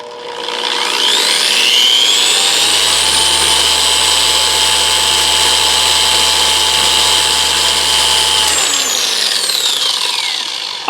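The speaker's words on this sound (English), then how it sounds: "Let me ramp it all the way up to its speed 6, which on the dial it will say 4, but that's the 6th speed of the machine." A TORQ 22D long-throw car polisher spins up and runs steadily at its top speed setting, a loud, continuous whirring drone with a high mechanical whine that holds for several seconds before winding down near the end.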